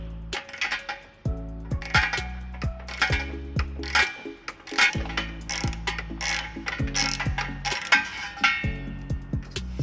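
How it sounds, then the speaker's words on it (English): Rapid clicking of a socket ratchet turning bolts out of the trailer hitch frame mount on a 2013 Dodge Grand Caravan, with bursts of close, crisp ratcheting and brief pauses between strokes. "we're going to pull out of the frame here. We're going to be using a 15mm socket and an 18mm socket."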